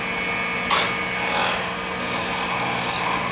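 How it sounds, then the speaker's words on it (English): A skew chisel with a steep grind cutting a pen blank on a wood lathe gives a continuous close rasping whine, with a few sharper bursts of scraping as the edge bites, no talk. "you're hearing that squeal because I've got a really steep grind on this skew"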